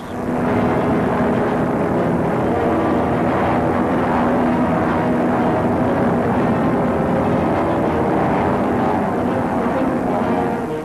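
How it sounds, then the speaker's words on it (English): C-46 transport plane flying during a paratrooper drop, a loud, steady propeller-engine drone that holds an even, unbroken roar throughout, close and without any voices. "The C-46 plane enables the men to drop from both sides, 18 at a time, speeding up the operation."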